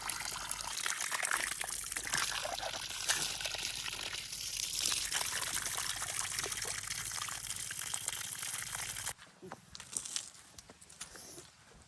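Hot water runs steadily from a tap for most of the stretch, then cuts off near the end, leaving quieter splashes and drips.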